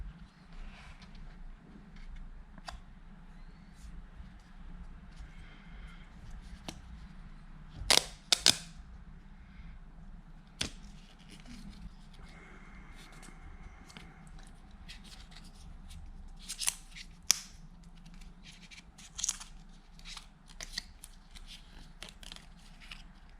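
Apple AirPods Pro packaging being unwrapped and taken apart, with crisp plastic and paper crackles, tears and sharp snaps, two loud bursts near the middle and a few more later, over a low steady background hum with no talking.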